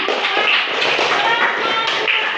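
A school class claps for a group of pupils, a short burst of children's hand clapping at close range with some voices mixed in.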